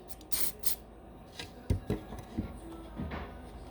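Glue sprayed onto a broken barber chair part during assembly, heard as several short close bursts of hissing aerosol spray with small handling knocks in between, no talking.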